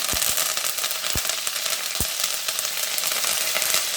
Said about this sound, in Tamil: இப்போ 3 வரமிளகாய், கொஞ்சம் கருவேப்பிலை வச்சுருக்கேன். பட்டை பொரிஞ்ச பிறகு